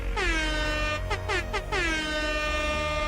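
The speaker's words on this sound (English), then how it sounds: "Give me a hit with the air horn." A loud air horn blares in long sustained blasts, briefly stuttering in three short honks midway before holding again.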